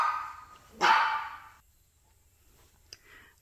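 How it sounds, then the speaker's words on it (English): A dog gives one sharp, fairly close bark that trails off, followed a moment later by a faint short yip in a quiet indoor setting. "It's actually going to stop my dogs barking."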